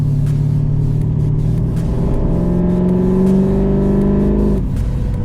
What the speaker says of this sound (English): Engine wise, obviously, you know, purrs along pretty good, sounds good, no missing.